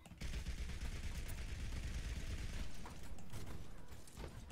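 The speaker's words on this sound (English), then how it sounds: "I survived another Bastion assault" Rapid gunfire from Bastion in the video game Overwatch, a dense stream of mechanical shots rattling continuously and fairly loud, with game effects layered over it.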